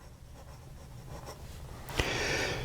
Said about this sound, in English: I think you can hear it doesn't attack the paper like it was before.